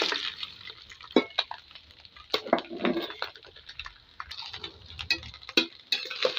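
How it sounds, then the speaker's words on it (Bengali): A utensil stirs and scrapes cooked rice and fried vegetables in a pan for fried rice, making irregular clinks, knocks and rustling scrapes with a light frying patter underneath. "আমি এখন নেড়ে চেড়ে সব মিলিয়ে নেব একসঙ্গে।"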